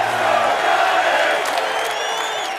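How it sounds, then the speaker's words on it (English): Giants fans cheer inside a stadium during an NFL game, a broad steady crowd roar with scattered whoops and shouts held at a constant level throughout. "Giant fans are starting to cheer."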